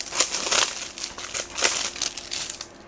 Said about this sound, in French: Voilà, on va le déballer.